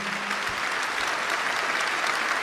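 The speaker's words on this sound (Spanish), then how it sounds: "Denle un aplauso al Señor Jesucristo" A church congregation claps in sustained, dense applause throughout, steady and fairly close, with no speech over it.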